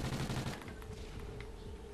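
Gunfire in the Call of Duty: Ghosts Extinction video game crackles in a dense, faint burst at the start, then thins into scattered distant shots.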